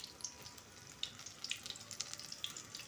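Egg snack fries quietly in a pan, a soft, steady sizzle with scattered small crackles and pops, faint and alone without any voices.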